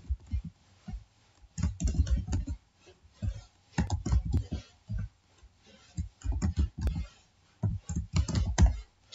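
Fingers type on a computer keyboard while entering text into a Microsoft Word document, making irregular clusters of quick, close clicks separated by brief pauses.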